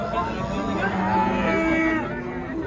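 Cattle moo loudly and close at a Bukhara livestock market, a long drawn-out low call that holds steady before trailing off.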